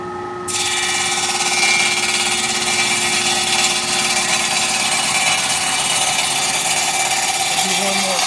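A DAKE Euromatic 370 automatic cold saw with a 14.5-inch blade cycles and cuts metal. A loud, continuous steady machine whine with a constant tonal hum starts abruptly after a brief lower opening and holds throughout, close up.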